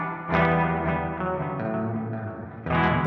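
An electric guitar through a Red Panda Context pedal plays sustained, distorted chords washed in reverb and delay, notes ringing and echoing before a fresh strum near the end.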